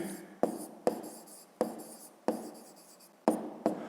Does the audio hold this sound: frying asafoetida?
no